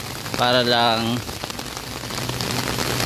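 Steady rain falls on an open riverside esplanade along the Pasig River, a dense, even patter on surfaces throughout, with a nearby voice speaking briefly over it.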